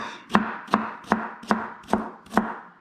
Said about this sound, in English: And I always try to cut this fast because, you know, it hurts your eyes